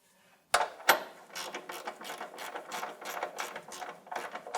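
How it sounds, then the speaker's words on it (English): Hand ratchet turning a 21mm socket on a control arm bolt of a 2007-2017 Jeep Compass, a steady run of close, quiet clicking after two sharper knocks. "21mm socket and a ratchet."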